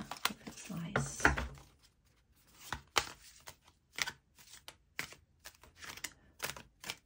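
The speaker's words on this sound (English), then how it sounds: "I feel like if this is the way you shuffle all the time, you're going to be able to get a good shuffle." Shuffling of a thin-card oracle deck, heard as soft, rapid riffles and taps that come in short bursts between quiet gaps, close and faint, with a person talking at times.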